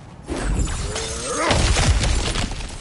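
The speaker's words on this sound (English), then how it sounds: "back to smashing through things for fun and profit" Cracked ground shatters under a heavy blow in God of War Ragnarök, a loud, close crash of breaking rock with scattering debris and rumbling impacts that continue as the pieces settle.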